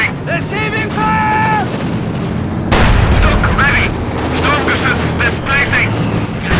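Gunfire and explosions in the World War II strategy game Company of Heroes 2 crackle and boom loudly and continuously, with a heavy blast midway, under shouted soldier voice lines.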